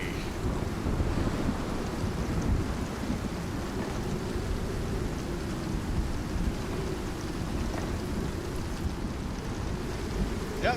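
A storm in the game Icarus: steady rain and gusting wind roar continuously at a constant level, with low rumbling underneath and no voices.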